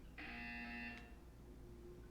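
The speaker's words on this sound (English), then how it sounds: "You will hear a buzzer." A harsh electronic buzzer from the video game Portal 2 blares once for about a second, loud and steady, then cuts off, leaving a low hum.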